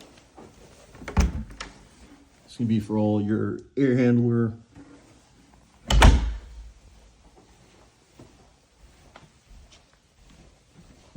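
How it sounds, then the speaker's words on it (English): A small hobbit door in a house opens and closes: a sharp thunk near the start and another solid knock later, with someone talking between them in a quiet room. "Here's your hobbit door."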